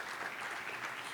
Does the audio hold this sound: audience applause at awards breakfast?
yes